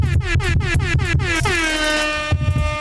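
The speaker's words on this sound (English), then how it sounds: "air horn" An air horn sound effect blares in rapid repeated bursts, then one long falling tone, then a final short blast, loud and close with bright stacked harmonics.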